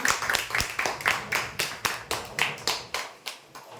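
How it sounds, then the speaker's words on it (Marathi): Applause for prize winners at a lucky draw event comes as a string of roughly a dozen separate sharp claps, close and rhythmic, fading toward the end. "जोरदार टाळ्या होण्यासाठी"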